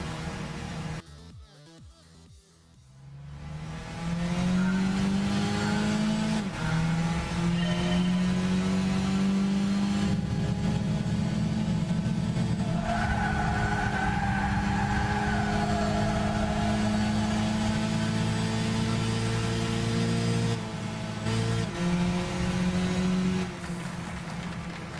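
Car engine in Gran Turismo 6, driven with an automatic gearbox, rising steadily in pitch as it accelerates, loud and sustained with gear shifts, then briefly easing near the end, no talk over it.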